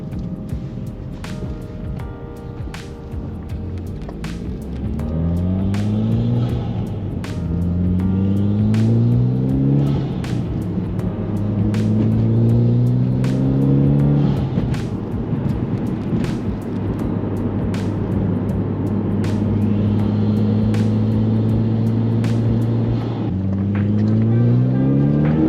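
A Mitsubishi Evo X heard from inside the cabin, its engine climbing through repeated rising pulls with gear shifts between them, sharp turbo flutter and blow-off chirps recurring throughout, loud and close with no talking.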